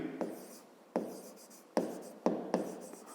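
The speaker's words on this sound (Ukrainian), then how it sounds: "Давайте так і запишемо." A pen writes out a fifth-grade math solution on paper in five short scratching bursts of strokes, close and fairly quiet, separated by brief pauses.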